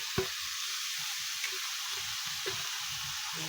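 Bottle gourd peel and potatoes fry with turmeric, giving a steady, close sizzling hiss with a few soft taps from a utensil.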